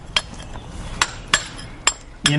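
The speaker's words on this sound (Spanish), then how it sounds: "los obreros corrían hasta la roca y la rompían con martillos y cinceles" Hammers and chisels strike rock as workers break it apart, giving four or five sharp metallic blows spaced about a third of a second apart, loud and close over a low background.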